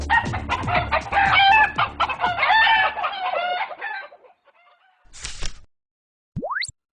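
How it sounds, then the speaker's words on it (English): Chickens cluck busily and a rooster crows over several seconds, loud and close, before thinning out. A short burst of noise and a brief rising whistle follow. "Kinda like being a chicken in a coop, isn't it?"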